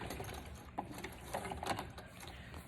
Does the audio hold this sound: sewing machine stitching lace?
yes